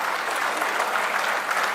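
Dense, even applause from a large audience at a Kannada stage event, a continuous wash of clapping heard close and loud with no break.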